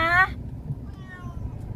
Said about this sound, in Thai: เสียงแมวเห่า